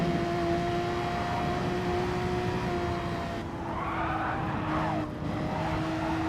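Race car engines drone steadily in Gran Turismo Sport's Group 3 daily race at Dragon Trail Seaside, with a brief skid and tire squeal swelling midway at the chicane crash before the engine note resumes.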